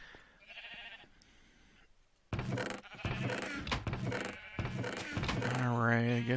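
Sheep bleat in the Minecraft video game, several short wavering cries heard close up and mixed with other game sounds and a person talking.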